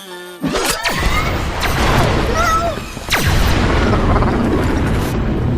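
Booming, metallic gunshot effects for the animated film Wall-E, made by striking a large hanging coil of metal: two loud, reverberant blasts about two and a half seconds apart, each with a sharp attack and a long ringing, sweeping tail.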